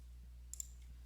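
A single crisp mouse click on a continue button while working through a Schedule E form for a single-family residential rental property, brief and close against a low steady hum.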